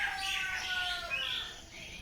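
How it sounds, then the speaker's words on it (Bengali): Village birds chirping in the early morning, a few faint, high, twittering calls at a distance over soft background hush. "মুরগির ডাক, পাখির ডাক"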